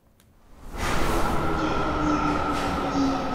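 A train rushes past, its sound swelling quickly from quiet into a loud sustained roar with faint metallic whines and rumbling wheels, with no speech over it.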